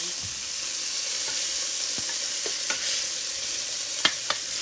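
Pieces of beef for beef Burgundy sizzle in a hot skillet, a steady near hiss with a few sharp pops and clicks scattered through.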